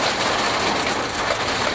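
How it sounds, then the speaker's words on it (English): Steady rain falls throughout, a dense continuous hiss of drops with no gaps, fairly loud and close, with no voices. "there's the rain again"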